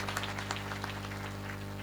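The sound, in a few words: audience clapping to welcome the mridang player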